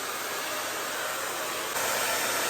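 Steady, loud whooshing airflow from a Pattern hair dryer while hair is blow-dried, continuous and close, rising slightly partway through.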